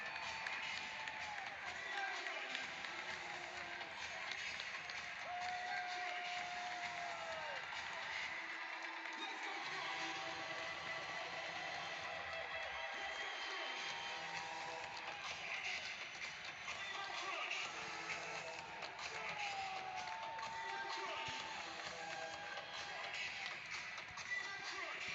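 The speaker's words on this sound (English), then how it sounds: "You hear the crowd." Large crowd roaring and cheering after a go-ahead goal at an indoor soccer championship final, a sustained distant wash of noise with scattered whistles and shouts, fairly faint, with talk mixed in.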